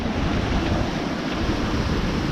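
Steady rushing ocean waves and buffeting wind noise while a sailboat travels at about 6 knots on open water between St. Thomas and Grenada, loud and continuous with no talking.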